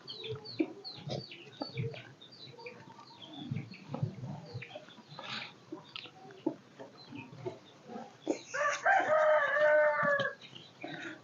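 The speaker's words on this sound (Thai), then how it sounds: "ไก่" Chickens cluck and scratch around close by in short, scattered bursts, then a rooster lets out one long, loud, drawn-out crow near the end.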